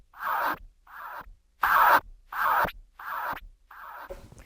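DJ turntable scratching cuts a short stab with the fader, repeated in five or six quick bursts separated by silence, each a bit softer like fading echoes, close and alone.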